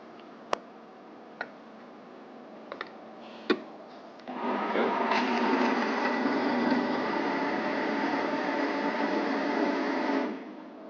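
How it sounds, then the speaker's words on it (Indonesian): A few sharp clicks, then a blender blending shaved ice for a smoothie starts a steady loud whirring roar that runs for several seconds before cutting off abruptly. "langsung di blender"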